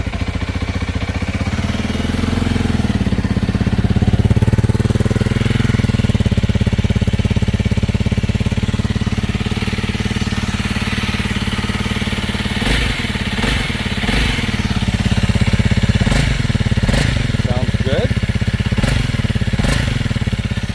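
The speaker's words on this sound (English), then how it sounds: "I'll go ahead and start the bike so you can hear it." A Honda CRF 300L motorcycle idles close by after a cold start, its engine thrumming in a loud, steady low pulse, with a few sharp clicks and knocks breaking in near the end.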